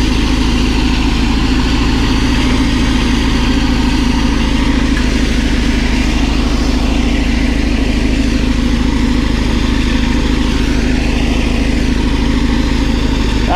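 Caterpillar D11 bulldozer pushing close to 100 tons of dirt, a steady, loud, low diesel engine drone with a deep rumble that holds evenly throughout, no voices.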